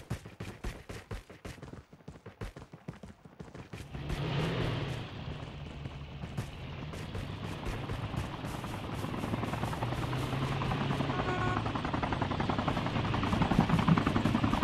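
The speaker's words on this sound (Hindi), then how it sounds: "हेलीकॉप्टर आ रहा है ना" A helicopter approaches in Call of Duty Mobile. After a stretch of rapid gunfire, a broad rotor rumble swells steadily and grows louder over the rest of the clip.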